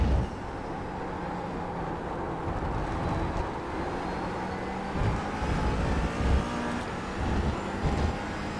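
A McLaren 570S GT4 race car in iRacing gives off a steady engine rumble with low road noise, rising slightly in bursts toward the end, moderately quiet and without speech.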